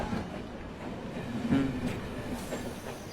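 A train rolling past near a station, steady low rumble with faint wheel clatter throughout, no voices.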